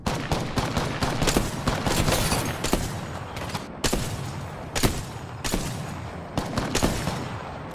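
Gunfire from an Apex Legends solo-versus-squad battle royale match rattles out in dense, rapid bursts, sustained and loud, with sharper individual shots punching through the continuous volley.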